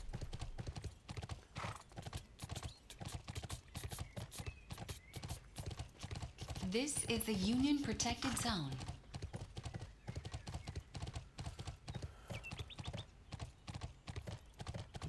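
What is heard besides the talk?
horse hooves clip-clopping while riding, Bless Online video game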